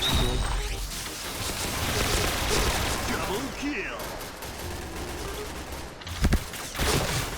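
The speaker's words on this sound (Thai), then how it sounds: "ผมต้องยิงแบบยิงเป็นชุดๆอะไม่งั้นคุมปืนไม่อยู่แล้ว" Short bursts of automatic gunfire in the Point Blank first-person shooter, dense rapid shots repeating over continuous game noise with a voice talking throughout.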